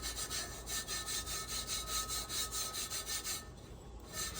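A glitter tumbler being rubbed by hand in the tack-it method, giving a steady run of rhythmic, close, dry rasping strokes about four per second, pausing briefly near the end, no voices.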